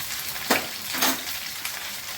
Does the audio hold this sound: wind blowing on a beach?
no